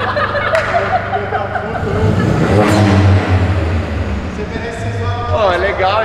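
A drift car revs hard in bursts with an add-on virtual turbo effect, loud and close, the engine rising and falling while people talk over it.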